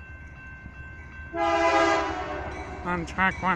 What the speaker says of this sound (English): It's another freight train.